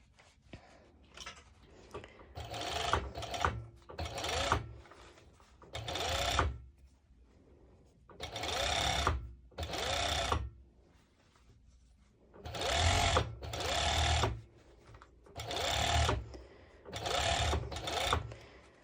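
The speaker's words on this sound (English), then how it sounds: "making the bust stitch first always gives the freedom of going a little easier with your serger" Serger sewing the bust seam of a sporty mesh top, running in several separate bursts of steady mechanical whirring with short quiet pauses between them, close and fairly loud.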